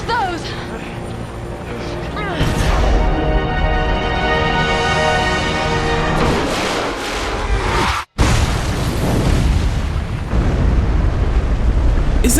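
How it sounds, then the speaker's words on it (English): Twin rocket launcher blasts in the Resident Evil 5 video game, a sustained roaring explosion and rumble that cuts out briefly and then continues, mixed with speech throughout. "who finally kill Wesker using twin rocket launchers"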